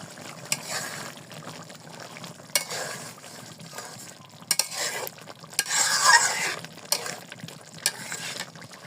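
Panch phoron and chili powder for chui jhal pickle are stirred in a pan, with repeated scraping strokes over a soft frying sizzle that briefly brightens midway.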